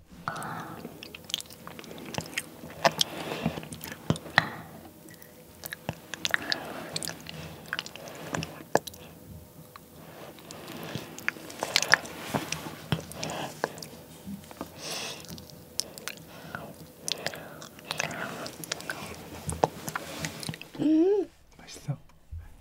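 A young girl bites into and chews soft durian flesh for the first time, with close, wet chewing and squishing sounds repeating irregularly among quiet voices and whispers.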